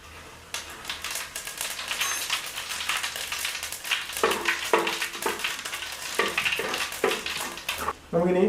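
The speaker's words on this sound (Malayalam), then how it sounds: "അപ്പം വെളിച്ചെണ്ണ ചൂടായി നമുക്ക് കടുക് ഇട്ട് കൊടുക്കാം" Mustard seeds and fennel seeds hit hot coconut oil in a pan, giving a steady loud sizzle with sharp crackling pops throughout and a louder burst of spattering near the end.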